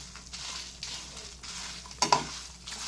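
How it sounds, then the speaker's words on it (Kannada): Byadgi red chillies dry-roast in a pan over a low flame, with quiet scraping and stirring strokes and a couple of sharper clinks near the end. "ಈಗ ಅದನ್ನು ಲೋ ಫ್ಲೇಮಲ್ಲಿ ಸ್ವಲ್ಪ ಹುರಿಸಬೇಕು"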